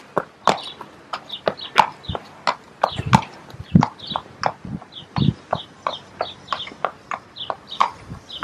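A horse walks back and forth on command while being checked for injury or illness, its hooves producing a steady, close series of about two dozen clip-clop steps, with faint bird and rooster calls behind.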